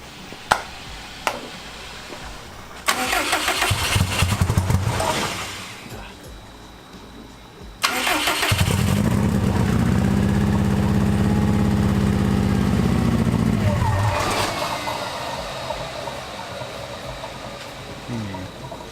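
A Factory Five 818 engine cranks and catches at its first start, then settles into a loud, steady idle before it cuts out and fades back to quieter background noise.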